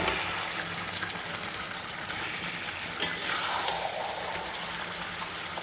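Water poured into chicken cooking in a pan for a spicy curry, a steady broadband gush and hiss close by, with a small knock near the middle and the flow easing slightly toward the end.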